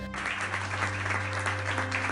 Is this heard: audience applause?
yes